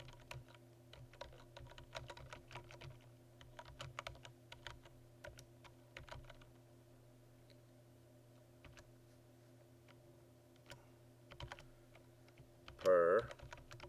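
Quiet, close typing on a computer keyboard, irregular light key clicks in bursts with pauses, ending in a slightly louder clatter.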